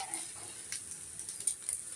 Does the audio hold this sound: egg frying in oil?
yes